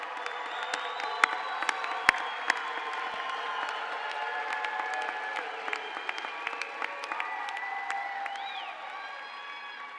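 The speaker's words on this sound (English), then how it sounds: "Yeah, you can have another round of applause." A graduation ceremony audience in a large hall gives a faint, distant round of applause and cheering, a steady wash of clapping broken by occasional sharper claps and whoops.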